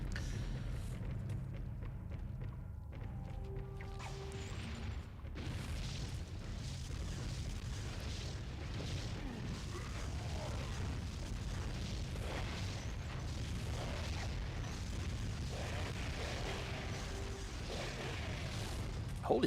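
Heavy booming turret fire and explosions in the PS2 strategy game Goblin Commander, a continuous dense battle din of repeated blasts at a steady level over game sound, no talk.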